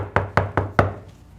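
Four firm knocks on a door land in an even, quick rhythm, close and clear, followed by a short quiet tail with no voices.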